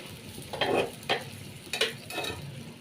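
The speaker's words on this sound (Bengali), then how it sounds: "এইভাবে একটু নাড়াচাড়া দিয়ে দেবো" Prawn curry with papaya, potato and pumpkin being stirred in a pan, four quiet bursts of spatula scraping over a low background sizzle.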